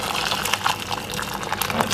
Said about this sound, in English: I'm gonna add some boiling water from my kettle